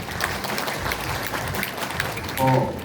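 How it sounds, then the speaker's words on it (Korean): Audience applause at a Korean lawmaker's 2024 report meeting in Daejeon, a steady wash of many hands clapping through the whole stretch, with a brief voice entering just at the end. "박수 부탁드립니다"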